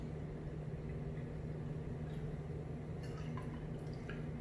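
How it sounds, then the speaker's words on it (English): Club soda is poured into a Scotch Collins glass, a faint, steady fizzing trickle with a few light drips near the end, under a low background hum. "And then finally, top it off with some club soda."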